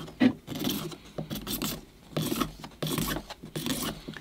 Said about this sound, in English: Just feel a little bit of pull on the scraper.